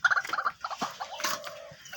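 Several white-breasted waterhens call in quick repeated bursts, loud and close, with harsh clucking notes and a drawn-out tone partway through.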